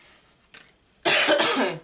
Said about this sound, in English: I'm about to have another coughing fit.